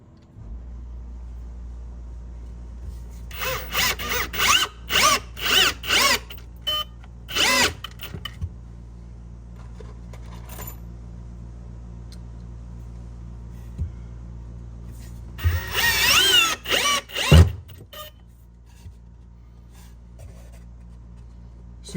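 A Milwaukee power drill drives screws through half-inch backer board into a wall stud, a close cordless motor whirring in short bursts, then one longer run with a rising strain as a screw seats, separated by quiet pauses.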